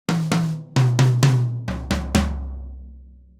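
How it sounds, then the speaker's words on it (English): Toms on a Gretsch Energy drum kit struck in a quick descending run, seven close, loud hits with resonant ringing tails that fade out at the end. "Here's the sound of the toms"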